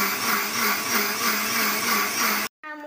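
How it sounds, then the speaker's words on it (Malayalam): A blender whirring steadily and loudly through chopped carrot juice ingredients with sugar, a continuous high whine that cuts off abruptly near the end, with no talk. "നമ്മുടെ ഇൻഗ്രീഡിയൻസ് നമുക്ക് അടിച്ചെടുക്കാം."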